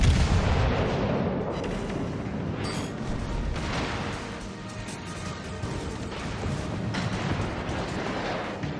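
Artillery fire from a Bayern battleship in World of Warships: Legends booms loud and sustained, with heavy rumbling blasts and crashing impacts running continuously, close and full-bodied.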